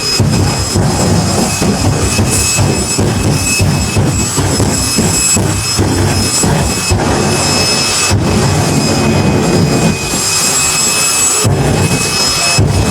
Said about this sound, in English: Martin Hill ran his Fire Force 3 jet car, a funny car dragster, down the Santa Pod quarter mile.